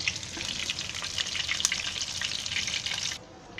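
Tuna fish frying in hot oil, a dense, steady crackling sizzle heard close up, continuing without pause until it cuts off abruptly near the end.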